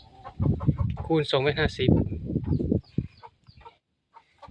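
Fighting chickens in a coop cluck and squawk in a busy, close run over the first few seconds, with someone talking over them, before things fade to quiet.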